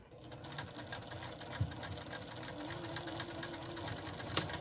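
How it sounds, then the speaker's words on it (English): A sewing machine stitches a lined girl's dress, running in a steady continuous whir with rapid needle clatter throughout, close and fairly loud, with no talking. "I'll give a couple of back stitches there. All right, I'm just going to continue around about 5 times."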